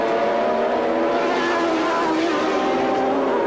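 Formula One race cars at the 1981 Austrian Grand Prix at the Österreichring, a dense, continuous engine roar from a heavy group of cars, loud and close without letup.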